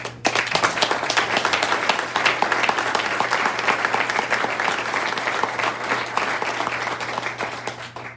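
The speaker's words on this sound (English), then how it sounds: "I think it's worthy of just another round of applause." Sustained round of applause at a meeting, many hands clapping densely and evenly for about eight seconds, fairly close, over a low steady room hum.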